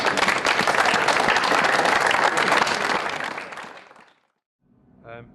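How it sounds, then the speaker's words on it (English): An audience at a school event applauds the players of a Guernsey versus Hulme school match, thick clapping for about four seconds that fades into silence before a voice begins speaking. "I want everyone to give them a huge round of applause"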